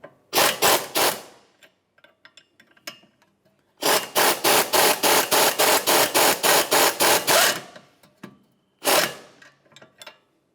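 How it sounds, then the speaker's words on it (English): A wrench ratchets a sway bar link nut tight on a 2011-2018 Volvo S60 rear suspension: rapid bursts of close metallic clicks, a short run, a long steady run of about a dozen strokes, then a final brief burst, with faint clinks between. "Use a 15mm to tighten that nut."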